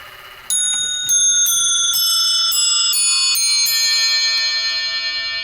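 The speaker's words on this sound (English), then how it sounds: "You can tell this bell's a little bit out of tune. It's a replacement bell, and the note isn't quite right" Chime clock bells ring a descending sequence of struck tones at a steady pace, clear and close, one a slightly out-of-tune replacement bell, the notes overlapping and sustaining as they fade.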